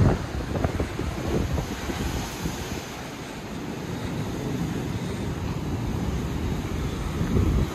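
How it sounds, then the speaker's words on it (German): Waves surge and break against rocks at Santa Ponça, Mallorca, in a steady rush, heavily buffeted by wind noise on the microphone. "Hier schlagen die Wellen an den Felsen."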